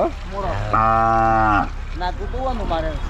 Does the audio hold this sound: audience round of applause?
no